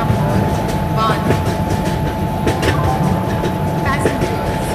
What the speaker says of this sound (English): Super Fast Express. is arriving at platform number 1.